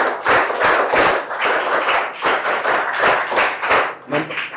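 A classroom audience claps loudly to congratulate a student who took first rank, a dense sustained round of applause with uneven rhythmic bursts.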